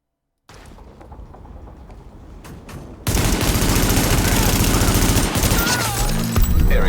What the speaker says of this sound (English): Now that was some shooting